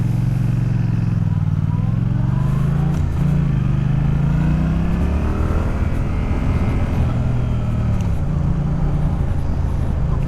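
Motorcycle cruising on an open road on a cool day, a loud continuous engine drone with wind rush and gently shifting pitch as the rider eases on and off the throttle.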